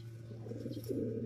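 Pigeons coo softly and repeatedly, low throaty rolling calls close by, over a steady faint hum.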